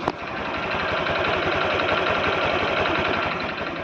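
A Honda Click V3 scooter engine idles steadily and close, a dense running drone with a fast, regular ticking rattle throughout and no voices.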